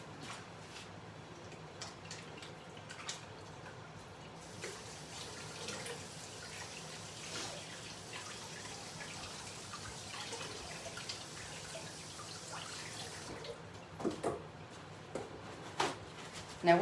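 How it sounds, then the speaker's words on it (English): Running water from a kitchen sink tap as hands are rinsed mid-way through making no-knead bread dough, a steady soft wash with scattered drips, fairly quiet and continuous. "Let me rinse my hands off."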